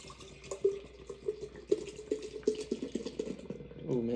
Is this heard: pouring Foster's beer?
yes